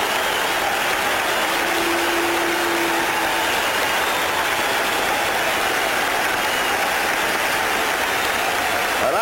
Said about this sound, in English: let's listen to the ovation for Yastrzemski